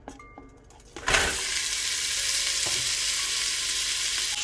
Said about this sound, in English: we're going to start out with the pork belly